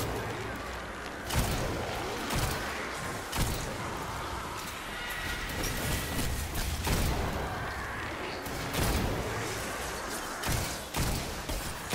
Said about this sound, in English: I'm using a hand cannon, which isn't going to be a real problem for me